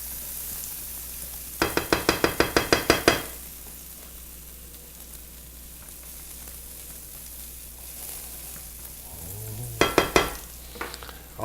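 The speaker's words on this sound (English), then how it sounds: "it doesn't take long at all for these walnuts to roast" Walnuts roasting in a pan with Worcestershire and pepper sauce, a soft sizzle under bursts of rapid scraping stirs, one long run of strokes early on and another short burst near the end.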